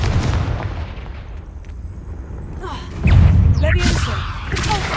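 A Confringo spell explosion in a video game, arriving as a loud, deep thudding blast about midway after a quieter stretch, with rumbling debris trailing off and a voice heard beforehand.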